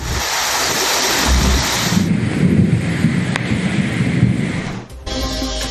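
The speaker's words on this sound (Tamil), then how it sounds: "ஊத்துக்கோட்டை உள்ளிட்ட பகுதிகளிலும் பரவலாக மழை." Heavy rain pours down steadily with low rumbling thunder beneath it, a broad loud wash of storm noise that shifts character near the end.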